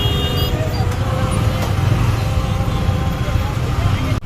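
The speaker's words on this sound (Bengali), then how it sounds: "ব্রিজে তো চলে এলাম, কিন্তু জ্যাম প্রচুর লেগে গেছে।" Traffic stands jammed on a bridge, a continuous low rumble of car and bus engines droning steadily without clear breaks, loud and close.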